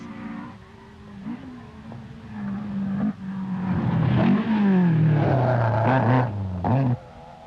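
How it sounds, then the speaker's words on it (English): Rally cars race at the 1986 Donegal International Rally in Ireland, engines revving hard and shifting through gears, one car growing louder as it passes close and then cutting off sharply. "The Nissan of Pat Kirk from Strabane is 8th."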